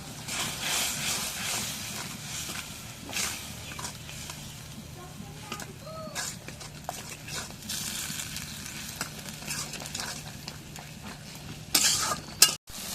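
Spices and garlic paste fry in a pan for a beef tripe and potato curry. A spoon stirs them with a low sizzle and soft scraping under faint background noise, and a few clanks of metal come near the end.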